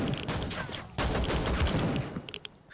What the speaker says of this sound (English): Oh, there's some kind of gunfire happening.